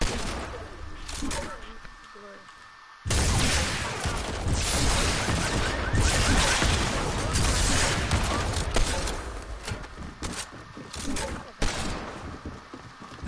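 Rapid video game gunfire, including hand cannon shots, erupts in dense, loud volleys after a quieter opening and continues in bursts with sharp individual cracks near the end.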